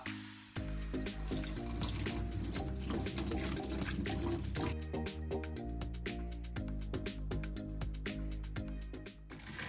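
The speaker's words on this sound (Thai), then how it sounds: "เราจะใช้น้ำอุ่นในการกำจัด เศษไขมันต่างๆ ที่อุดตันอยู่ในท่อซิงค์นี่ครับ เราจะเทราดลงไปเลยครับ" Warm water pours continuously down a kitchen sink drain clogged with grease and food scraps, a steady splashing and gurgling flow lasting several seconds, close and even.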